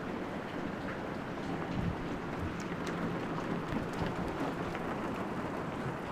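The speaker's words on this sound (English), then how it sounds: "Rain, rain, rain." Heavy rain pours steadily, a broad constant hiss with scattered sharper drops and a low rumble beneath, no one speaking.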